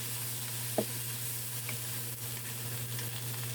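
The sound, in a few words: broth poured into sautéed cabbage, sizzling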